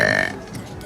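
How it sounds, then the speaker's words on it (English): A little kid lets out a loud, brief burp, close and alone, in under a second. "look at this guy burping"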